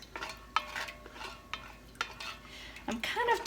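Buttermilk being poured and stirred into a bowl while making spicy ranch, heard as faint, quiet kitchen scraping and clinks of a utensil against the bowl in irregular strokes, ending in a brief liquid slosh.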